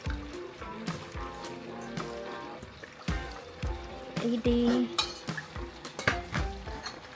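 A utensil stirs sautéed bihon vermicelli noodles in a pan, giving repeated clinks and scrapes against the metal at close range, with a brief louder clatter midway.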